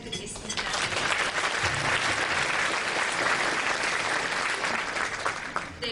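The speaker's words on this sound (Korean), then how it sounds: "큰 박수 부탁드리겠습니다" A concert audience applauds a tenor and piano accompanist, with dense sustained clapping that swells quickly and holds steady before tapering at the end.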